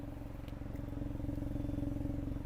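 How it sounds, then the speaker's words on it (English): Steady, throaty exhaust drone from a 2025 Hyundai i20 N Line's 1-liter three-cylinder engine idling close by, with a low rhythmic pulse and faint clatter, no talking. "this absolutely phenomenal exhaust note for a very small 1 liter 3-cylinder"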